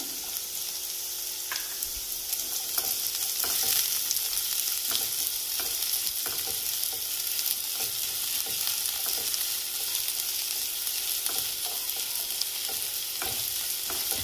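Onion and bell pepper stir-fry over a high gas flame, a steady close sizzle running throughout with scattered clicks of a spatula stirring the vegetables, no talking.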